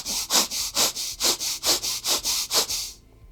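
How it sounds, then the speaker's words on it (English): A person does rhythmic nasal breathwork, about ten quick hissing sniffs in a steady even pattern, close and clear, ending in quiet. "we breathe twice through our nose and then exhale"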